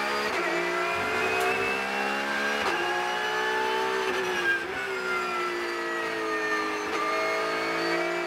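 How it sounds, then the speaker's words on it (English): Porsche Cup race car on a push lap at Zandvoort, its engine loud and steady from the onboard position, pitch climbing through each gear and dipping briefly at shifts, with no talking over it. "So starting our first push lap"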